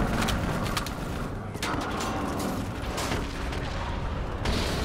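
Gunfire aimed at a VTOL aircraft in the Call of Duty: Black Ops 3 video game, dense continuous rattling of rifles and automatic weapons with booms mixed in, loud and steady throughout.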